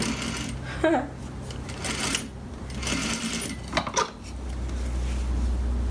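A sewing machine stitches fabric for an Iro and Buba outfit, running in short bursts with pauses between and a steady low motor hum, with light clinks of handling close by.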